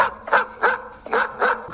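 A guard dog barks in a quick, steady rhythm: five or six loud, close barks with short pauses between them.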